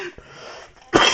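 A single sharp sneeze bursts out near the end after a quiet intake of breath, close and loud.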